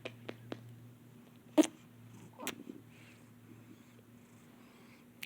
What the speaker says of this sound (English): Can you hear him? He's purring.